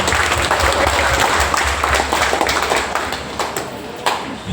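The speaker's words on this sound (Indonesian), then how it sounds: "tepuk tangan." Wedding guests applaud right after the vows, a loud, close, brisk burst of clapping with sharp individual claps that stays dense before easing slightly toward the end.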